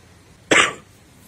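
A woman with a wheezing viral cough gives a single harsh cough burst, close and fairly loud, that fades quickly into a quiet room with no talking.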